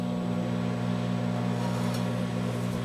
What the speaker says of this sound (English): put it in the microwave just enough so the cheese will melt